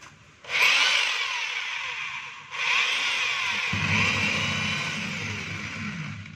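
A DeWalt D25133 rotary hammer whirs steadily in drill mode, a bright high-pitched motor whine that starts abruptly, dips briefly, then spins back up loud and close, with a low rumble joining partway through.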